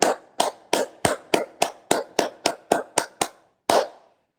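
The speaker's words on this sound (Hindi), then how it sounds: "और आप थोड़े से 5 बार ताली बजा लीजिए" A dozen sharp, close hand claps come in a steady, even rhythm during a yoga session, then a single final clap follows after a short pause. No voices are heard.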